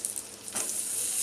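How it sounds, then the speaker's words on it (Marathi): Curry leaves dropped into hot oil for a village-style egg masala, a sudden sharp crackling burst that settles into a loud steady hiss, close up. "आता त्याच तेलात मी हे कढीपत्ते सोडते"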